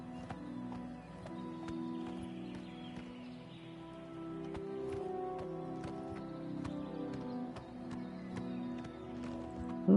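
Horse hooves clip-clop steadily in Oblivion Remastered, a regular galloping beat over sustained game music, with a brief neigh and no talk.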